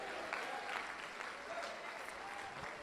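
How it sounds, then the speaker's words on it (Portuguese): A church congregation applauds steadily throughout, a dense wash of many hands clapping at moderate volume with a few voices mixed in. "fique de pé, aplauda o Senhor"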